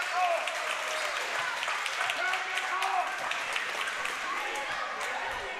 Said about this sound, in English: Crowd's getting fired up, Darryl.